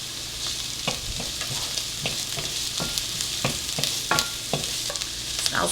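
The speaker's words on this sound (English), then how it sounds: "I'm just gonna let that saute for a couple more minutes" Onions and garlic sautéing in a pan for a chicken burrito bowl, a constant close sizzle punctuated by regular scrapes and clicks of a spatula stirring, with no voices.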